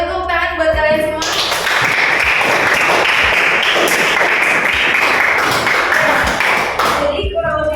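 Applause in a high school economics classroom, a dense burst of many hands clapping for roughly six seconds, loud and close, with a voice heard before it begins and as it fades.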